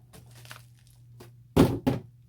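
A couple of sharp rustling crunches of packing material being pulled out, separated by quieter handling noises and a low steady hum.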